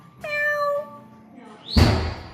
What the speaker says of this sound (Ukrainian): А тут хто співає мяу.